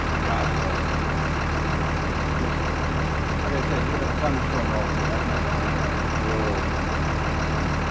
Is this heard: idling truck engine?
yes